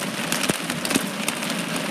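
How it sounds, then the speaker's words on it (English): Heavy rain pours down during a severe thunderstorm in Los Angeles, making a steady, dense hiss with scattered sharper drop impacts throughout. "Now that is some heavy mother freaking rain."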